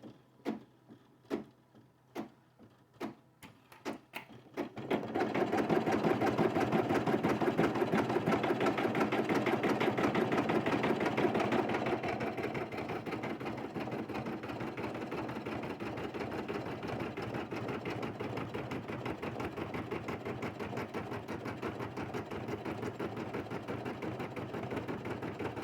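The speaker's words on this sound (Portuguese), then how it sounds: "Vou voltar o bastidor para a máquina. Ela vai fazer para mim o ponto cheio." An embroidery machine stitches a satin fill on a hooped piece for a pen holder: a few slow ticking stitches, then a steady, fast, whirring needle rhythm that runs continuously and eases slightly in level partway through, with no talking.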